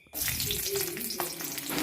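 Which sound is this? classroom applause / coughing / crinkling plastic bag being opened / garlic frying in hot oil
garlic frying in hot oil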